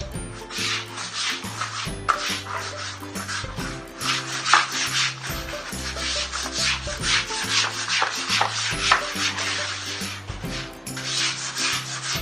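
A brush scrubs a soapy cat cage floor in rapid back-and-forth strokes, a loud, rough, rhythmic rubbing heard close up through the clip, with a steady low hum underneath and no talk.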